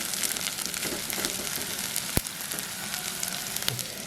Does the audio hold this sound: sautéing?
yes